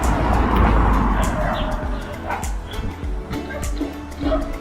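Several street dogs bark and yip near a factory street in Haining, China, sharp repeated barks and whimpers over passing car noise and a voice.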